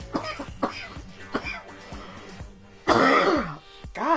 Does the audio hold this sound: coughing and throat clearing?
yes